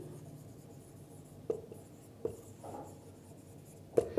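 Chalk or marker taps and scratches on a board in a quiet classroom, a few sharp clicks spaced a second or so apart with brief scraping strokes between, faint and without talk.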